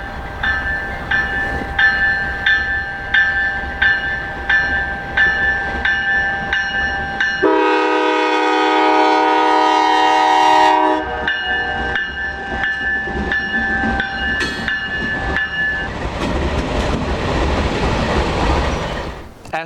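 K89 locomotives run light power back to Front Royal, rumbling along the rails before a long, loud multi-tone horn blast. The rolling rail noise then continues.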